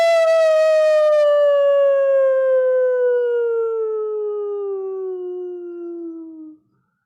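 A person imitates a wolf for the January wolf moon with one long, loud, sustained howl that slowly slides downward in pitch and then cuts off, with nothing else heard.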